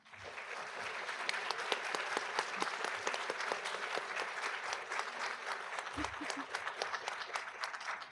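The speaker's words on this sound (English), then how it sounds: "Give them another round of applause." Steady applause from the audience at a college honor society induction and student awards ceremony, many hands clapping in a dense, even patter throughout, with a low voice briefly heard.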